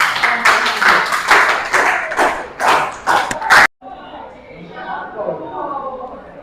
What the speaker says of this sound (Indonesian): Baik, kita kasih tepuk tangan dulu.